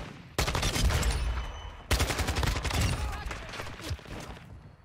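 Rapid automatic gunfire in Modern Warfare 2, loud and continuous, two long sustained bursts of machine-gun fire, with a brief pause between them.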